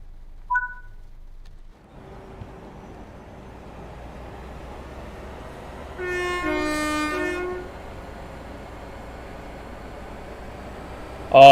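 A train departs on the East Coast Main Line in Train Sim World 4, with a low rising engine hum, a loud two-tone horn blast partway through and a click at the end, no voices.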